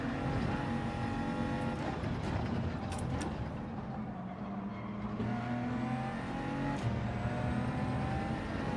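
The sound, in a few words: BMW race car engine in the video game Gran Turismo 7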